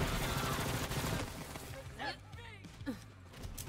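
Rapid bursts of video game gunfire crackle in quick succession, fairly faint behind a streamer's setup, with a few short vocal sounds breaking through near the end.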